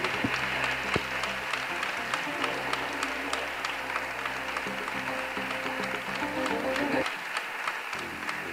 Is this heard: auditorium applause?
yes